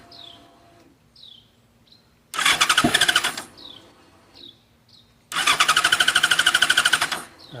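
Fuel-injected motorcycle engine cranking on the starter in two long bursts of rapid, even chugging, each lasting about two to three seconds, separated by quiet gaps where birds chirp in the background; the engine does not catch.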